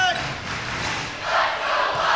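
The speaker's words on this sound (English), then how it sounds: "That crowd is getting loud." A crowd at a high school girls' volleyball state final roars loudly and continuously, the cheering dipping briefly and then surging again.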